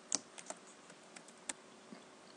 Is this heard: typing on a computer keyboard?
yes